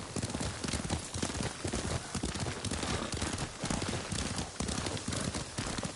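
Horse hooves clip-clop in a steady galloping rhythm during a ride in Ghost of Tsushima, a continuous muffled pounding, moderately loud and close, with no voices over it.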